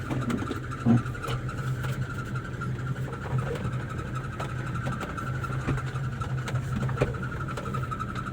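Modified automatic 4x2 pickup truck, fully loaded, with a steady low engine hum while driving and occasional faint knocks and rattles, no talking.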